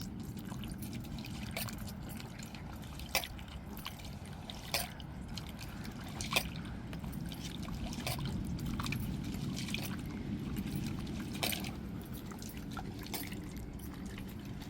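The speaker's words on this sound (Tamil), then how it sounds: "இந்த புளியை கரைச்சி எடுத்துக்கிடுவோங்க" Tamarind is squeezed and dissolved by hand in milky liquid in a bowl, a steady low wet sloshing with occasional small splashes and drips, close and continuous without speech.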